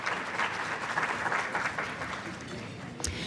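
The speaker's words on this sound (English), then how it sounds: "Please, one more huge round of applause to our sponsors" A conference audience at a disability rights event applauds its sponsors, steady dense clapping filling the room at moderate volume, with a brief louder burst near the end.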